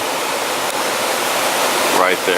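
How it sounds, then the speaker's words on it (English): Mountain creek water cascading down a small drop along Middle Prong Trail in the Smoky Mountains, a loud, steady rushing wash up close, with someone speaking briefly near the end. "Great little section with the water going down right there"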